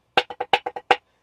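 A drumstick strikes an old practice pad seven times in quick succession, each hit a crisp, dry, close tap, with the pattern over in about a second.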